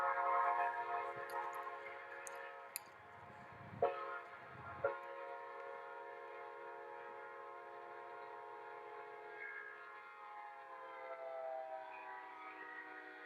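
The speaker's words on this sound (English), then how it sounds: "This is a video of a train approaching a railway crossing, blowing its horn, and you're going to hear higher pitch as the train approaches, lower pitch once it passes." A train sounds its horn while approaching and passing a railway crossing, a long sustained harmonic blast whose pitch drops as it goes by, with a couple of sharp knocks partway through.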